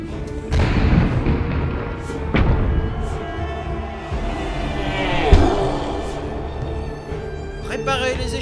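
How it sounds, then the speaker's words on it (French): Cannons firing in an animated battle, heavy booms and thuds scattered through a dense, noisy battle din, with shouting voices mixed in. "Armez les canons!"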